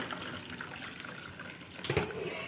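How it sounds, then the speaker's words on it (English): Water and scooped tomatoes pour from a bowl into a large sieve, a soft steady splashing that swells into a louder gush near the end, with faint background noise throughout. "So I use this bowl to scoop my tomatoes. And then I pour it into the one with the big sieve."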